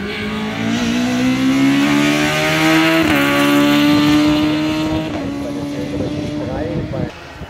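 A VW Golf race car built for hill climb racing at the Hauenstein Bergrennen accelerates hard, its engine note rising through gears with a shift and then fading as it pulls away; a commentator talks over it.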